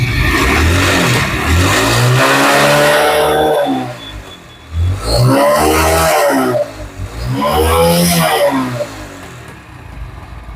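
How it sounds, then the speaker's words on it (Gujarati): A smoking car engine with a noisy timing chain is revved hard three times in a row. Each surge climbs and falls back loudly and close by, with a rough mechanical rattle under the roar and no talking. "ધુવાડો કરે છે અને એક ટાઈમિંગ ચેનનો અવાજ આવે છે"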